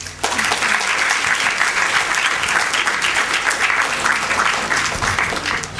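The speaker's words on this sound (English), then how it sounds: "Ladies and gentlemen, please give her a huge applause." Sustained audience applause fills a medical lecture hall on heart failure in the elderly, a dense steady clatter of many hands that starts abruptly and holds at full strength throughout with no speech over it.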